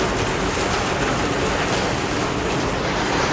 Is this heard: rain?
yes